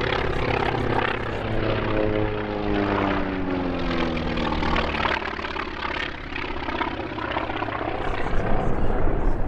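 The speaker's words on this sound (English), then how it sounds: "First up, a relatively new team, flying 6 T-28 Trojans." Six T-28 Trojan piston trainers roar through an opposing pass at EAA AirVenture Oshkosh 2019, a loud, throbbing propeller drone with pitch sliding downward as the aircraft sweep past, no voices present.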